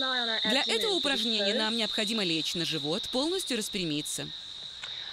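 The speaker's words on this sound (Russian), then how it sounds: "Вы, наверное, слышите, что на заднем плане слышно стрекот цикад" Cicadas on the Russian-language yoga recording drone in a steady, loud high-pitched buzz that runs throughout, behind a woman giving calm instructions.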